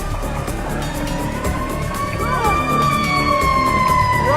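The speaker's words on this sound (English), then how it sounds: "So a police siren goes by and everybody starts to panic." A police siren wails and rises in pitch, growing louder as it approaches through busy traffic noise.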